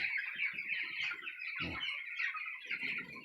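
A dense chorus of chickens clucking and chattering continuously in a poultry shed holding about seven thousand chicks, many birds at once, with a few louder calls cutting through.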